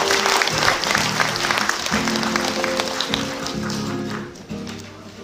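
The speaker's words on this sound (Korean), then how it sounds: "여러분 박수로 맞이해 주시기 바랍니다." Audience applause welcoming the cultural center director at the Seoul Jung-gu Cultural Center 30th anniversary ceremony in a large auditorium; steady clapping fills the room, with a faint voice and background tones underneath.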